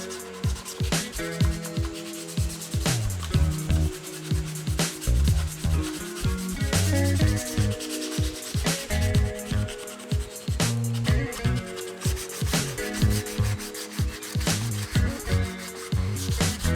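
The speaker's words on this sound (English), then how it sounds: "sanding the raw print" Sandpaper rubbed by hand over a raw 3D printed Mandalorian helmet, producing steady, close scratchy strokes in a continuous back-and-forth rhythm with no talking.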